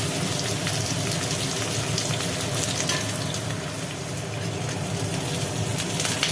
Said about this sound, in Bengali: তেলের ওপরে পটলগুলোকে বসালে ভেতর পর্যন্ত ভাজি হয়ে যায়